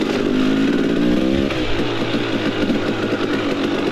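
A 300 dirt bike engine drones loudly up close on a trail climb, its steady note falling as the rider works the clutch, then chugging and knocking at lower revs.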